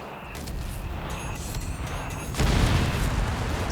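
A rapid artillery fire mission in Company of Heroes 3 rumbles as a dense, continuous barrage of booms and crashes, loud and close, swelling into a heavier impact partway through.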